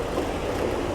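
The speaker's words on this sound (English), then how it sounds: "We're talking about 2 articulated steam engines" Two articulated O scale three-rail model steam engines start out pulling a long train at a club layout, giving a steady, fairly loud rolling rumble and clatter with no voices.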